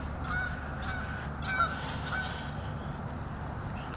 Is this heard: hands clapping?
no